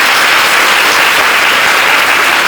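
Loud, dense applause from a large worship congregation gathered for communal prayer, an unbroken wash of clapping hands that fills the space evenly from start to finish.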